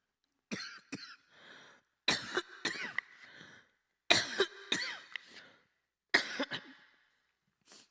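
An elderly-sounding person coughs in four separate rough bursts with short pauses between, close and otherwise quiet.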